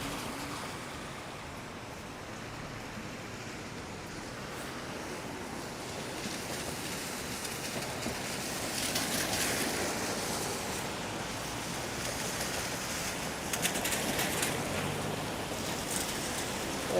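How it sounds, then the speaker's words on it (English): Light rain falls steadily over a downtown Toronto street during a walk under an umbrella, a constant close hiss with faint wind rumble that thickens slightly partway through. "It's still raining, but barely."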